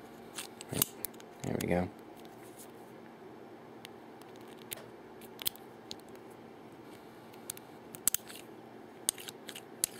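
Antique handcuffs from around 1890 give sharp ratchet clicks, scattered in short bursts across the clip, with one louder rasping stretch early on; someone speaks briefly.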